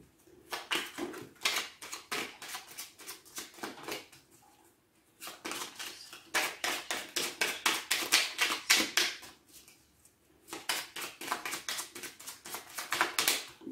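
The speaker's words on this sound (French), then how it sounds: "je vais commencer par tirer une carte du petit oracle des fées" A fairy oracle card deck is shuffled and handled in three rapid, crisp bursts of riffling card noise separated by short pauses, close and fairly quiet.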